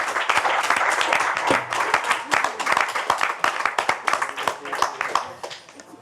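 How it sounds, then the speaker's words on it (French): Audience applause for a team of finalists at a French-language speaking competition final, a dense sustained clapping that fills the hall and slowly thins toward the end. "on peut les applaudir."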